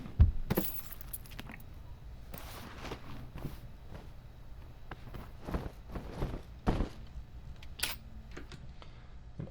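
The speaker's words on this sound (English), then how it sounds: "So I got some key jingles, some paper crumples, a pill bottle, all these things, right?" Foley-style recording of keys jangling alongside footsteps, with scattered close jingles and thumping steps spread across the whole stretch against a quiet room.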